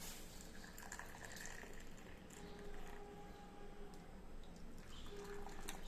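Butterfly pea flower tea is poured through a strainer, producing a faint, continuous trickling and splashing of liquid for several seconds.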